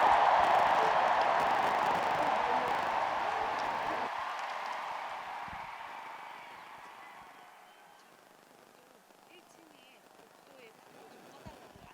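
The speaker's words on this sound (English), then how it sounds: "Please give a loud round of applause." Loud, sustained applause from a large audience at an international peace summit ceremony, a thick wash of clapping that gradually thins and fades to a quiet room.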